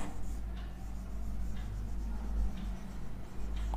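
Pen or chalk scratching as a volume formula is written during a maths lesson, a soft intermittent scraping over a steady low hum, close but faint.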